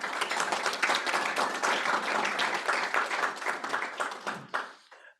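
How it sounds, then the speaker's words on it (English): An audience at a speech by the Sierra Leone ambassador to the U.S. bursts into dense, sustained applause that holds steady for several seconds, then thins out and stops. "put your hands together for this country giving us as immigrants to be part of this country"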